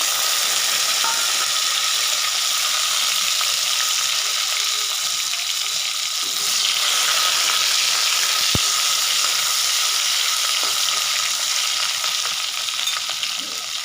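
Chopped tomato meets spices frying in oil, producing a loud, dense, continuous sizzle with one sharp click partway through.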